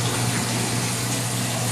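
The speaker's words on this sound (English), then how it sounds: "then more water will leak" Water rushes in a steady, loud, broadband hiss like a gushing leak or running flow, continuous and close with no voices.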